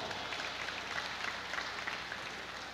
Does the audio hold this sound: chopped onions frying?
no